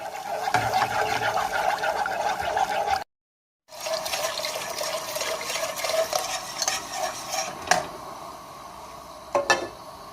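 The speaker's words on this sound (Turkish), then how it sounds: "Suyu unla bir çırpıyoruz topaklanmadan." Flour being whisked into cold water for a restaurant-style lentil soup, a steady busy stirring and swishing of liquid in a bowl that runs continuously, breaks off briefly, then resumes with a few sharper clinks near the end.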